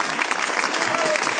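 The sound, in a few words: live audience applause for band members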